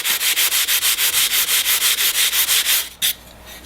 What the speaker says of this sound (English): I'm going to sand this flat just by rubbing against the sandpaper.